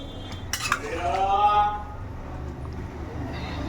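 A pot lid lifts off boiling potatoes with a couple of sharp metallic clinks and a brief rattle, followed by soft kitchen noise and faint steam.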